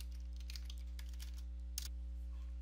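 A few soft keystrokes on a computer keyboard, typing a command-line entry, heard faintly over a steady electrical hum with one sharper key click near the end.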